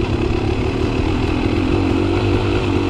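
A Beta Xtrainer 300 two-stroke dirt bike rides an off-road OHV trail at South Cow Mountain, its engine droning close and steady and loud with a slight buzzing warble.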